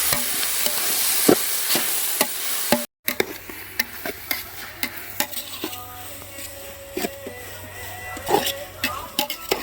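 Food is stirred in a pan at a family iftar cooking session, with repeated scraping and clinking strikes over a steady frying sizzle while people talk in the background.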